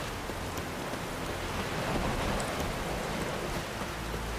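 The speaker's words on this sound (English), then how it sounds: "Oh, raining again." Steady, dense rain hiss in The Witcher 3: Wild Hunt with a low rumble underneath, even and continuous throughout, no voices.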